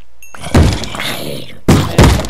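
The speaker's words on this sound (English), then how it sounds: "Man, quit banging on my door" Heavy thuds of someone banging on a door in a survival video game come in loud, separate blows, one early and then two close together near the end, with a muffled rumble between them.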